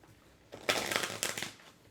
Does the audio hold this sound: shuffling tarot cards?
yes